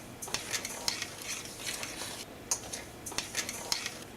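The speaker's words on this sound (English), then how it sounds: "I'm going to mix everything well" Grainy scraping and light clinking as a spoon mixes dry couscous grains with salt and vegetable oil in a bowl, with a few sharper taps against the side, close and fairly quiet.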